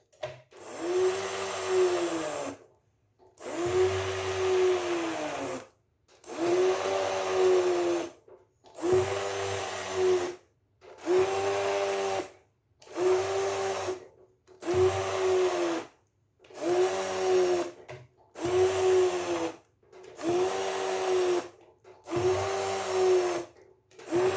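Blender churning refrigerated milk cream (malai) into butter, running in repeated bursts of about two seconds each with short silent gaps, a steady whirring motor hum close by and loud throughout.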